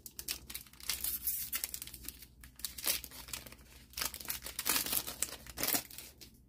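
Wrapper of a Dominaria United set booster pack being torn open and crinkled, a series of close, crisp foil tearing and crumpling sounds in irregular bursts, with no talking.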